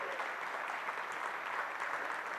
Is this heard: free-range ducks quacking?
no